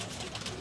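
A pigeon coos on a rooftop in Lahore, a brief, soft, close murmur over steady outdoor noise.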